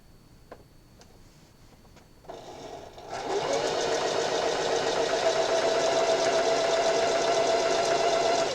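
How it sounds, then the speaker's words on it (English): A sewing machine runs steadily, stitching the long edge of a hair scrunchie's fabric tube, starting quietly and settling into a loud, continuous whirring hum that carries on alone without talk. "I'm just going to sew down the long end only and leave both short ends unsewn."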